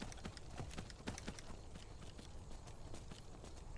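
Horse hooves clip-clop in a quick, steady rhythm while riding in Skyrim, faint and continuous, with no voices.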